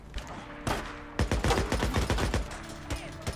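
Bursts of rapid gunfire in the video game Days Gone crackle in quick volleys, with scattered single shots before and after, fairly close and loud.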